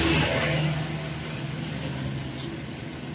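Road traffic moves along a city street in Baguio City, near the University of the Cordilleras, a low, fairly distant rumble of passing cars with a faint engine rev, steady throughout and with no clear speech.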